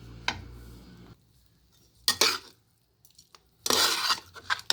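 A spoon stirs and clinks against a metal vessel while mango rice is mixed, with a few separate bursts of scraping and clattering spread between quiet gaps.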